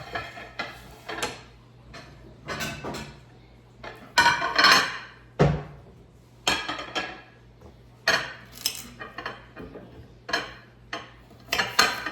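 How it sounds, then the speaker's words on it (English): A knife chopping through a celery stalk on a cutting board in a home kitchen, a steady series of crisp, close knocks and crunches, some quick clusters and some pauses, no talking. "Let's Get our celery stalk cut."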